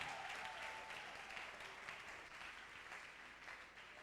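A church congregation claps and acclaims at a Sunday closing service, a steady wash of applause heard faint and distant throughout.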